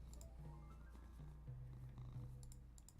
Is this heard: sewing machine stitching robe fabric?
no